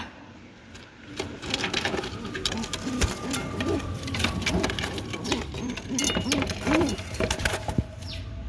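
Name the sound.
pigeons cooing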